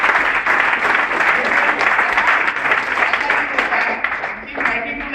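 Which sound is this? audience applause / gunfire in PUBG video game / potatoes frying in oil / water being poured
audience applause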